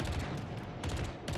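Naval gunfire in World of Warships from the cruiser Atlanta firing armor-piercing rounds, heard as a quick string of sharp cracks with a rumbling tail, clustered in bursts and fairly faint.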